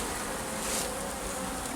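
Black honeybees buzzing in an opened hive during winter preparation, a dense, continuous hum of many bees close by, steady and fairly loud with no talking.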